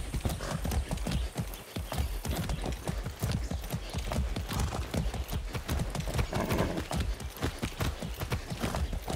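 Horse hooves clip-clop steadily and close in a Far Cry 6 game scene, with an occasional whinny over the rhythmic, loud hoofbeats.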